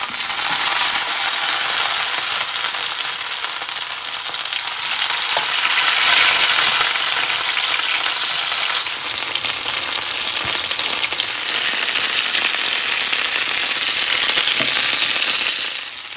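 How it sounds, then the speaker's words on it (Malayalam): Prawns fry loudly in hot vegetable oil, a dense steady sizzle and crackle that fills the whole stretch with little change, close up and without talk. "അപ്പോൾ എണ്ണ നന്നായിട്ട് ചൂടായിട്ടുണ്ട്, നമുക്ക് ഈ പ്രോൺസ് അങ്ങ് ഇട്ട് കൊടുക്കും"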